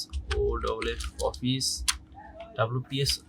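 Keys tapped on a computer keyboard while entering text into the Chrome browser, a quick irregular run of clicks under steady background hum, with brief speech-like sounds mixed in.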